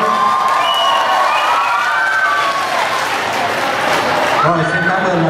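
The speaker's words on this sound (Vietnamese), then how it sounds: "Một lần nữa xin cho một tràng vỗ tay" An audience at a Vietnamese Catholic parish youth gathering and concert claps and cheers steadily throughout, a dense wash of applause with voices calling out over it.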